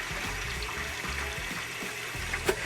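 Rinsed sushi rice drained of its water: close, low gurgling trickle and splashing pours in uneven pulses over a few seconds, with a small clink near the end.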